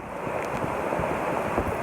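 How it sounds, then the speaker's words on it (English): Wind and rain in a woodland, heard as a steady, loud broadband roar of gusting wind and rainfall pressing close to the microphone, with no voices. "buffer it from the wind and the rain"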